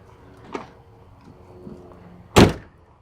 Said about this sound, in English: I closed that door, damn. Closed that door good.